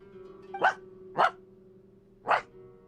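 A dog in the video game Genshin Impact barks three times, spaced unevenly over a steady low hum, each bark short and close with no talk.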